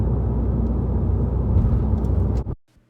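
A Subaru car accelerates from a rolling start with a loud, steady low engine rumble that cuts off abruptly near the end, leaving near silence.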